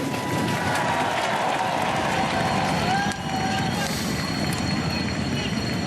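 A racecourse crowd roars as the Prix de Diane Longines horse race gets under way, a loud continuous wall of cheering and babble with a commentator speaking over it.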